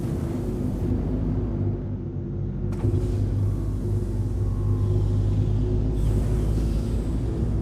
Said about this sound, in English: Landing gear raised.